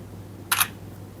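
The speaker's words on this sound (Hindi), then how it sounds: "तो एक पिक्चर में क्लिक कर लेता हूँ" A single sharp shutter click from the rear 32-megapixel camera of a Realme Note 60 phone, brief and close, over a quiet room.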